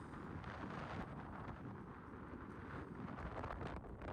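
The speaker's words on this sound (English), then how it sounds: "It's a windy day." Wind at the Red Pyramid in Egypt on a windy day rushes steadily across the microphone as a low, continuous roar, fairly faint, with no voices.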